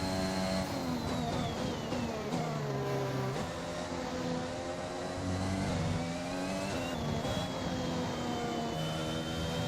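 A Formula 1 race car engine in the F1 2021 racing game at the Italy round, a dense high-revving whine that climbs and drops through gear changes for nearly ten seconds, loud and continuous with no speech.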